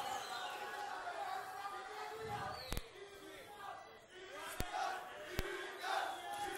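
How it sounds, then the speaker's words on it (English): A crowd at a kickboxing event in Athens chants rhythmically and roars behind one fighter, a broad wash of voices with sharp impact cracks and thuds from the ring cutting through at intervals. "The crowd is behind Gkikas. You can hear him chanting his name."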